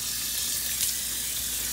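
Tap water runs steadily from a faucet onto a kitchen sponge in a sink, making a constant close hiss and splatter with no speech.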